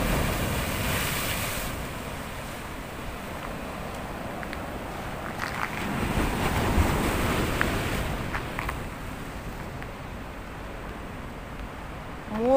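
Sea waves break on the shore in a continuous roar of surf with wind noise, swelling into a louder surge midway before settling back.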